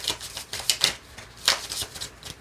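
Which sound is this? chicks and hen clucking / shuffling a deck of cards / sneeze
shuffling a deck of cards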